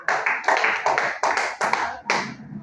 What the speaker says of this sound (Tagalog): bigyan din natin ng 5 palakpak.